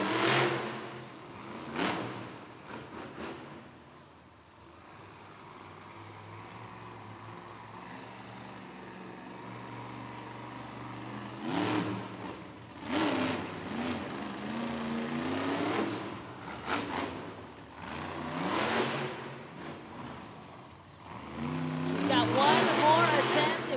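Engine roaring and revving from the 6-ton Unicorn monster truck in the Monster Jam 2-Wheel Skills Challenge at an Oakland stadium event, surging in loud bursts over a steady drone, with an announcer talking throughout.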